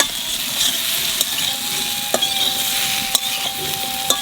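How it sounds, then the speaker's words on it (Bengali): Papaya pieces frying and stirred in a pan while making fish curry, a steady sizzle with occasional sharp clicks of a utensil scraping the pan. "পেঁপেটা বাজিয়ে নিছি"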